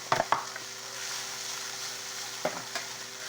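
Rice being stirred into a pot of stewing green tomatoes and squash, a steady soft sizzle and simmer with a few scraping stir strokes near the start and again toward the end, close and fairly quiet, no talk.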